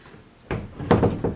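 A French door with a ball clasp swings shut, giving a soft thud followed by two quick latching knocks close by, with no talking.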